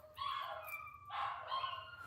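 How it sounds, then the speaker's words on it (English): Dogs bark a few times indoors at a distance, two short muffled yelping barks, faint, with no talking. "You hear my dogs?"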